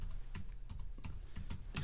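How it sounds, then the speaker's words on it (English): Rapid typing on a computer keyboard, close and fairly quiet, a steady patter of individual key clicks with no talk. "I'm going to click somewhere appropriate in the image, and let's type"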